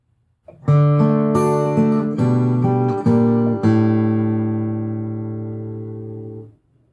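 Fingerstyle guitar arrangement of Randy Newman's When I'm Gone, a short phrase of several plucked notes and chords played close, ending on a long sustained low note that rings out and fades, no voices.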